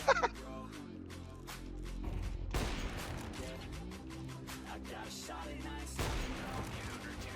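Gunfire in the video game CS:GO 2: bursts of rapid shots cracking over a steady game-ambience hum, with heavier blasts near the three- and six-second marks, and someone talking briefly over the action.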